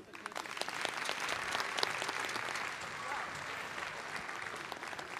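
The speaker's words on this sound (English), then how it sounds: "I think we should clap for them." Moderately faint applause from a middle-school concert audience honoring chorus students, a continuous patter of many hands that eases slightly before ending.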